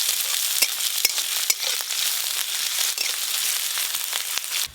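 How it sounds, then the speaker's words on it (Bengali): Onion, garlic and slit green chilli frying in hot mustard oil with black cumin, giving a loud, steady close-up sizzle and crackle with scattered sharp pops, no voices. "পেঁয়াজ, রসুন আর কাঁচা লঙ্কা একটু ভালো করে ভাজা ভাজা করব"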